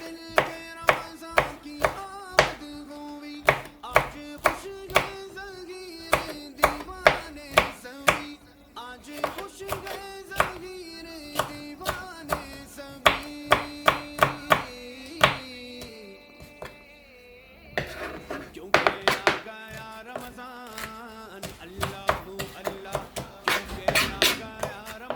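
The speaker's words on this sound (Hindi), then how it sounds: "दो ग्रीन चिली हम इसमें डालेंगे, इसको भी बारीक बारीक काट लेंगे।" Knife chopping two green chilies finely on a board for Pakistani pakoras, a quick run of sharp, close taps in steady bursts with brief pauses between them.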